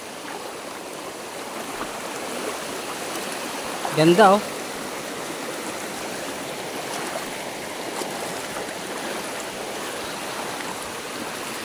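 A river stream near a spring in a remote part of Zambales rushes steadily throughout, with a short exclamation from a person partway through.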